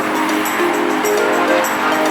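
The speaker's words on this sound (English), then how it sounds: "See that train over there? That train is stopped." A stopped train at a station makes a loud, steady rumbling hiss with faint metallic tones and brief higher squeals over continuous background noise.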